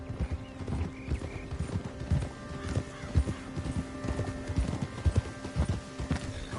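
Continuous rhythmic clip-clop of horse hooves, close and fairly loud, with a brief whinny mixed in, in the video game Red Dead Redemption 2 on PS4.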